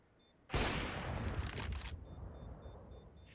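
A short loud burst of gunfire in a competitive Counter-Strike esports match, one dense rattling volley that fades over about a second and a half, with no voices.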